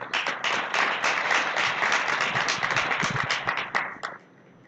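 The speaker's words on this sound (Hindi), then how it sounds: "और दोनों ने ताली बजाई है" An audience at a spiritual discourse in Surat breaks into dense applause, many hands clapping at once for about four seconds before it fades.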